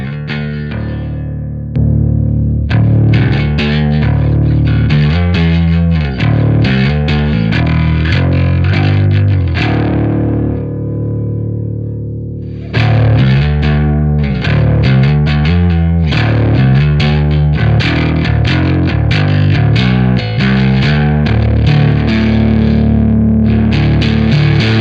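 Bass guitar played through a Doomcaster one-knob pedal gives loud, distorted riffs with repeated plucked notes, a held note fading around ten seconds, then the riff resuming steadily with no talking.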